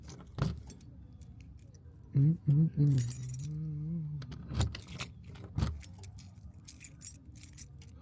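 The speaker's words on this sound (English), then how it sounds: "Trying to find the right key." A bunch of keys jangling and clinking close up in bursts while someone hunts for the right one at a property door, with a voice murmuring and humming between the metallic rattles.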